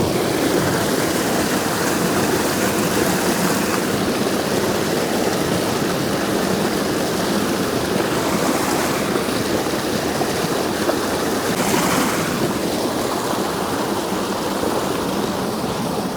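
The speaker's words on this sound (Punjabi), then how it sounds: "ਤੇ ਚਿੱਬੜ ਧੋ ਲਈਏ ਜੀ ਕਰੀ ਅਸੀਂ ਹੁਣ।" Wild melons (chibbar) being washed in water outdoors, giving a steady, loud broadband splashing and rushing wash that continues throughout without pause.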